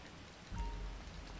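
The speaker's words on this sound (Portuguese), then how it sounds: "Olha só, já começou na chuva aqui." Rain falling in GTA V Online, a steady faint hiss of drops with a soft low rumble swelling partway through, no voices.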